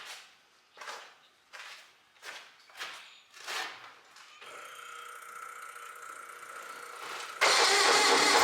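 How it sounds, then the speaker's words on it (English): A Ford CL-20 skid loader engine cranks over in about five separate bursts without catching, each a rhythmic churning whir, followed by a steadier mechanical drone and a louder burst of noise near the end. "cranking, not starting."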